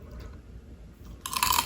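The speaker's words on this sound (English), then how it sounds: "Can you hear the crunch?" A crunchy bite into crispy keto fried chicken, a quiet pause followed by a sudden, close, bright crackling crunch near the end.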